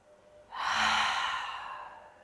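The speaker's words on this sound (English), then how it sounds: "let's take those three big, beautiful releasing breaths again" One long, deep exhaled breath during a yoga session, soft and airy, close to the listener, trailing off slowly after a brief quiet start.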